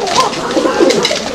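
Fancy pigeons for sale at a farm coo in soft, throaty rolling calls, close and fairly loud, running continuously through the short moment.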